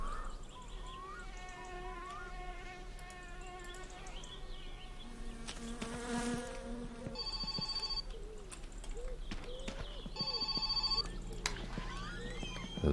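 A telephone rings twice in the video game My Summer Car, two separate bursts of bright electronic trilling over a steady background of buzzing insects and a soft tonal drone.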